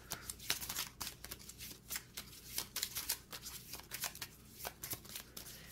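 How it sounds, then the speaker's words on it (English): A 54-card deck for the Royal Visit board game is shuffled by hand, a quiet, close, rapid riffling patter of card edges flicking in quick repeated bursts, with no talking. "we're just going to shuffle them up here"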